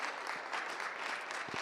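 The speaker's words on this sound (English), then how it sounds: "Round of applause here." An audience at a business conference claps for a guest coming on stage, a brief faint patter of many hands heard from a distance.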